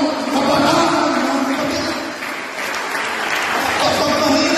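Youth fellowship congregation clapping loudly and steadily in a church service, a dense, sustained wash of applause with no talk over it.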